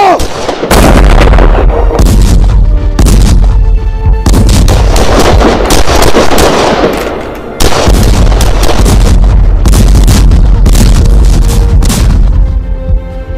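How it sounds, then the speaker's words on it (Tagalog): Cannons fire in rapid succession, a barrage of loud booming blasts with deep rumbling echoes overlapping one another for over ten seconds, close and dominant. "Tutok ang mga kanyon sa mga kalaban! Fuego!"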